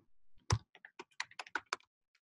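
A computer keyboard typing a command, a quick run of about a dozen sharp, close key clicks with brief gaps, one louder keystroke near the start, no voices.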